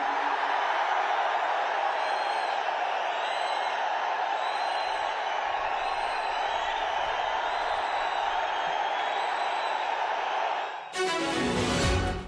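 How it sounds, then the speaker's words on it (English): A dense, sustained roar of a large outdoor political rally crowd cheering enthusiastically for K. Annamalai, former Tamil Nadu BJP President, steady and loud throughout before a brief burst of a different sound at the end. "the crowd erupted enthusiastically for former Tamil Nadu BJP President K. Annamalai"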